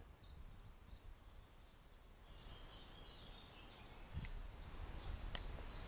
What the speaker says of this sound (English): And we've got all the birds chirping.